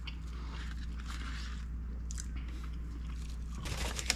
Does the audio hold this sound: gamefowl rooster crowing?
no